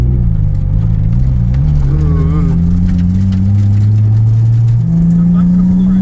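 RB25-swapped Nissan 240SX with a big turbo, engine droning and rising in pitch as it revs on the road, loud and close inside the cabin, with a voice speaking over it.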